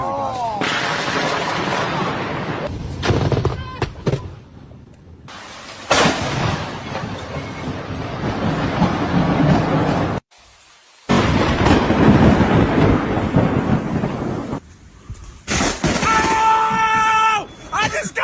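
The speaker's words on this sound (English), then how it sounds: "Lightning is really powerful, so stay safe." Thunder from a lightning storm rolls and booms in long, loud rumbling bursts separated by brief silent gaps, with rain-like crackle throughout and a few sharper cracks near the end.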